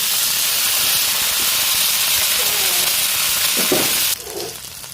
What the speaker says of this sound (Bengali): এর ভেতর এখন আমি নদীর টাটকা চিংড়ি দিয়ে দেব ভাজার জন্য